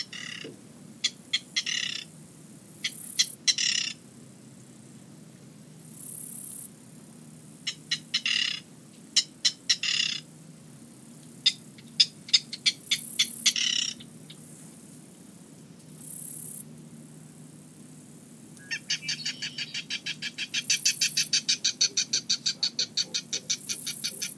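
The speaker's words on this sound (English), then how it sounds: "we're going to play a couple of calls to try to get this bird to come out" Bird calls played back from a device at an estuary reserve, answered by wild birds calling in distinct bursts of sharp chirps and squawks, some near and some far, ending in a steady rapid series of repeated calls, with no talking.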